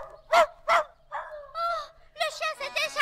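A dog barks twice, then whimpers and yelps in short, pleading bursts, close and clear, with a voice speaking between the sounds.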